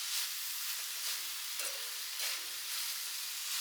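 Raw coconut oil sizzles in a pan on the stove, a steady hiss with soft crackles that holds evenly throughout without any voices.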